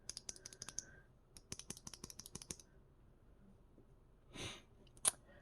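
Quick bursts of crisp clicky keystrokes on a mechanical keyboard with black ink switches in frankenswitch housings, typed in short runs with pauses, close and fairly quiet, followed by a soft rustle and a sharp click.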